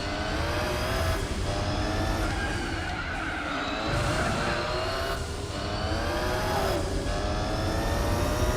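Racing cars in Gran Turismo 4 whoosh past one after another with rising and falling engine whines over a constant roar of motors and road noise.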